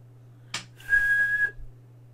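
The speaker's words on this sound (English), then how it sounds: "Come on, blow the whistle, ref." A referee's whistle in the football video game Football Manager 2021: after a short sharp click, one shrill, sustained blast lasts about half a second over a low background hum.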